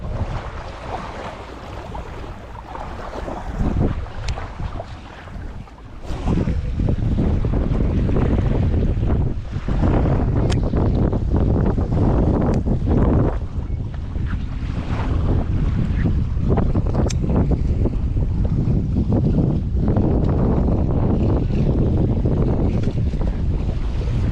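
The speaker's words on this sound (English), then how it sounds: "Sorry if the wind cut you off there" Strong wind buffets the microphone on a Jamaican resort beach during a fishing trip, a loud, rumbling roar that swells and gusts continuously with surf faintly beneath, no voices.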